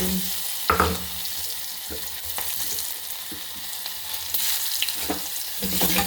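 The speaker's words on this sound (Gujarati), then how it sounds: "પછી એમાં લીમડાના પાન નાખીશું, ડુંગળી નાખીશું," Onions and curry leaves sizzle steadily in hot oil already holding mustard seeds and asafoetida for a bitter gourd dish, with scattered stirring clinks of a spoon against the pan.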